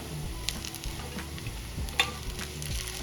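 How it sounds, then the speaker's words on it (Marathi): Tomatoes tossed into onions frying in a pan for Kolhapuri misal, a continuous close sizzle with a couple of sharp clinks and scrapes from stirring, no one talking. "आता या स्टेजला टोमॅटो ऍड करून घ्यायचं"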